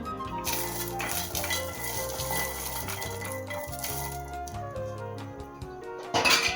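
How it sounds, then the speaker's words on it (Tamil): Almonds dry-roasted on a low flame in a kadai rattle and clink faintly against the metal as they are stirred, over steady background music, with a sharper clatter near the end. "இப்போ சிம்மில் வச்சு லேசாக இதை வறுத்துக்கலாம்."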